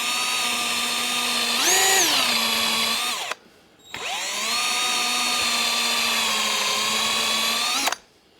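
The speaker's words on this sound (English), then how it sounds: "I'm going to grab a scrap piece of wood just to put behind it, and we're going to do a hole on each end" Power drill boring holes through a scrap piece of wood, the motor whining steadily and rising in pitch under load, two long near, loud bursts separated by a short pause, with no talking.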